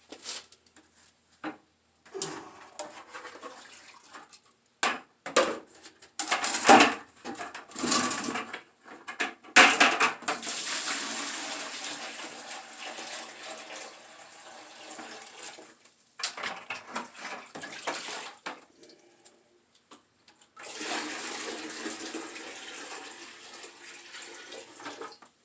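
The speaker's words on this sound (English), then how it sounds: "make sure I have a decent water in the bucket" Water pouring into a bucket during gold cleanup of concrete mats, a broadband rushing splash coming in bursts over about 25 seconds, loud and close with brief pauses between pours.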